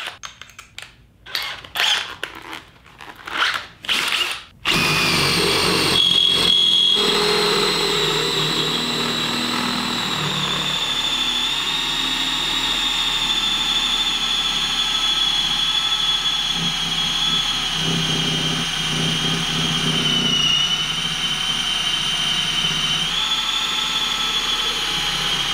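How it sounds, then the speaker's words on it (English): A DeWalt 20 volt cordless impact driver, used for spin swaging and flaring, runs in a sustained high whine after a few short clicking bursts, loud and close with a steady tone throughout. "let's see what the 20 volt DeWalt can do."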